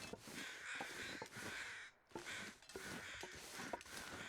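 Several harsh crow caws in The Long Dark, repeated in an irregular rhythm of short bursts over a steady windy hiss, fairly loud and near, with no voices.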